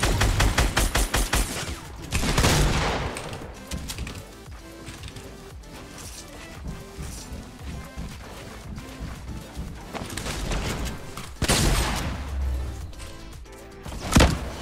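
Rapid gunfire in the Fortnite video game as a tower is shot down, loud continuous bursts of shots over busy game sound with dense rattling volleys throughout.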